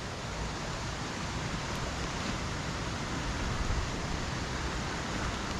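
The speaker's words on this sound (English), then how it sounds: "because it's been raining, the river's running quite wide and fast now." A rain-swollen river runs wide and fast near a waterfall, producing a steady, even rush of water that holds at a constant level throughout.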